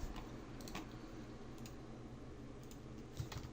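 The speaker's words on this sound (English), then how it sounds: "I'm gonna type in hop again." Computer keyboard being typed on at a desk, a few soft scattered key clicks over a steady low hum.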